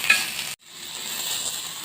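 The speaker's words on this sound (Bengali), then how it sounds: "এখন আমি এখানে টমেটো কুচি কুচি দিলাম" Chopped tomatoes fry in white oil on a griddle for a Maggi mix pizza, giving a loud, steady hiss that cuts out briefly for a moment before the sizzle resumes evenly.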